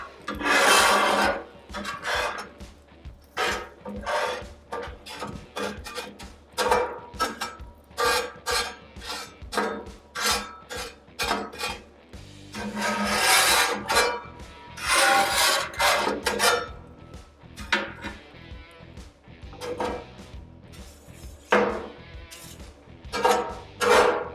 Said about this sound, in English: while that other side is toasting, I will start to scrape my griddle clean